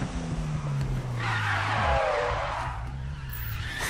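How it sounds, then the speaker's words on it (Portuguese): Car tires squeal in a long, rising screech as a car drifts in a racing video game, with the engine droning underneath, loud and continuous. "Só escuta o barulho dos pneus cantando."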